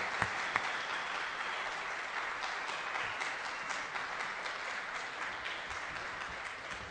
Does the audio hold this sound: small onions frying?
no